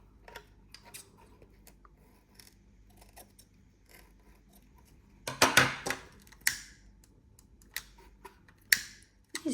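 Scissors snip away excess material from a handmade craft piece, with faint quiet ticks and then a short cluster of crisp close cuts near the middle and a few lighter snips after, with no talking.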